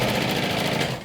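Sewing machine stitching a seam inside a bag pocket, a steady rapid mechanical chatter of the needle running close and continuous for about a second before easing off.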